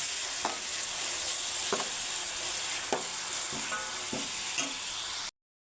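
Onions with ginger garlic paste sizzle steadily in a pan while a spoon scrapes and stirs several times, each stroke cutting through the constant close frying hiss before it stops abruptly.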